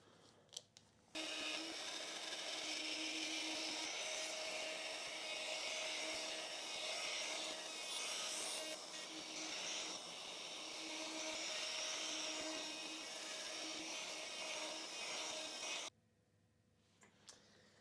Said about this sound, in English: routing the neck pocket, 18 millimeter depth, everything's set up, so let's start cutting